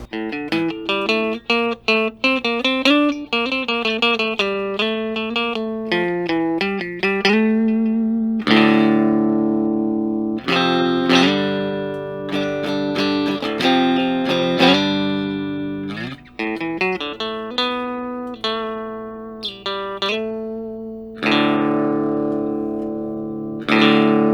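Electric guitar played through a small, bright Mosen Music mini amp with the tone knob at noon, giving a thin, brittle tone, picking melodic runs and chords continuously with little low end.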